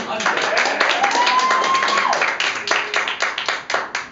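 Audience applause during a live interactive pick-your-path story reading: dense, steady clapping from a crowd that thins into scattered claps toward the end, with a voice briefly heard over it.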